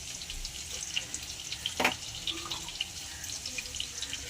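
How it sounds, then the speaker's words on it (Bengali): Water is poured into a cooking pot on the stove, giving a soft splash and trickle over background kitchen noise and frying hiss, close and moderately loud with no speech. "সামান্য একটু জল দিয়ে দিলাম।"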